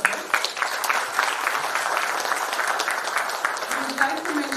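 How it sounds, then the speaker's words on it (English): An audience at a silver jubilee celebration applauds after a skit, steady crowd clapping that holds at an even level throughout, with a faint tonal hum rising near the end. "Please give a big round of applause."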